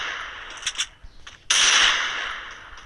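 A shotgun fires in the Free Fire video game: one sharp, loud blast that decays over about a second, preceded by a few faint clicks and taps.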